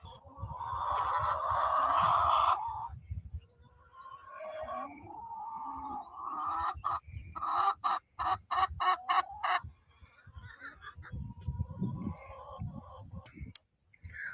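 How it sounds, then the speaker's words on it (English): Chickens cluck loudly and insistently in a coop, rising and falling in busy bursts with a quick run of sharp, repeated squawks near the middle. "the chickens are getting really loud"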